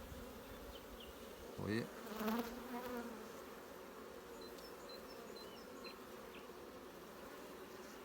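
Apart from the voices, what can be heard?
honeybees buzzing around an open hive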